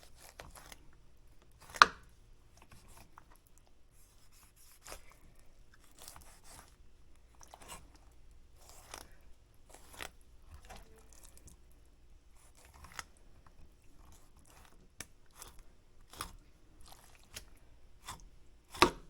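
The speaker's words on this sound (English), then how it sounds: "just work the knife along the belly fat and disconnect it from the rest of the body" A knife working catfish fillet meat off the bone and belly fat, heard as scattered soft cutting, scraping and crunching ticks with one sharper snap, quiet and close with no talk.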